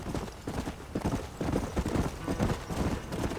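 Horse hooves clip-clopping in the Red Dead Redemption video game, a brisk, steady rhythm of close, loud hoofbeats at a trot on hard ground, continuing throughout without talk.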